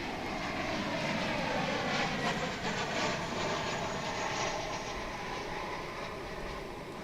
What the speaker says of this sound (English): now we're looking back towards the east with this American Airlines flight coming in from Austin